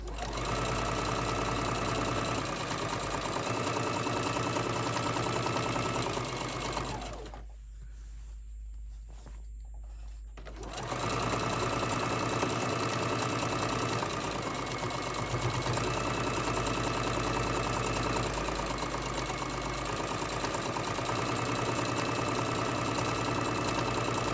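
Sewing machine running continuously at steady speed while stitching fabric onto an ironing board cover, a close mechanical whir that pauses for a few seconds midway and then resumes for a long run.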